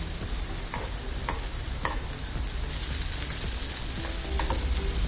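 Raw banana chips fry in hot oil with a steady loud sizzle and bubbling, and a few clinks from a utensil as the slices are flipped.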